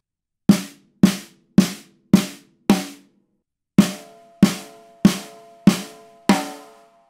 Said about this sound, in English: this drum sounds real different without the ring, and we'd like to show you a quick A/B of it with and without.